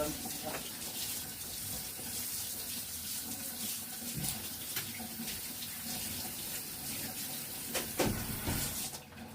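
Water runs steadily from a kitchen tap as a cake-decorating tool is washed under it, a continuous close splashing hiss lasting throughout with small clatters near the end.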